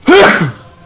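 A single short, sharp sneeze bursts out close and loud, then trails off quickly.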